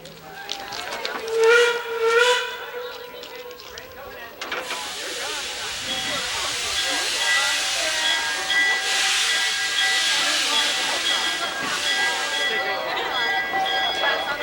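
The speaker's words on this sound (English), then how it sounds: "By the time the crew had the train ready to leave for its first trip" A steam locomotive whistle sounds in two loud blasts on the WW&F Railway, then a long, steady hiss of escaping steam takes over and continues to the end.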